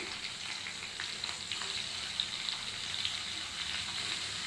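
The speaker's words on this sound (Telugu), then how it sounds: "మనం ముందుగా కట్ చేసి పెట్టుకున్న ఉల్లిపాయ ముక్కలు, క్యాప్సికమ్ ముక్కలు, టమోటా ముక్కలు యాడ్ చేయాలండి." Onion, capsicum and tomato pieces fry in a pan with a continuous soft sizzle and light crackle, close and alone.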